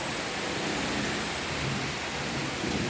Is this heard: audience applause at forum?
no